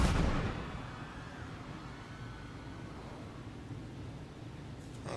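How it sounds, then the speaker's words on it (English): A bomb goes off in the game Papers Please: a sharp burst at the start that decays into a long low rumble and hiss, ending with a brief click. "Bomb!"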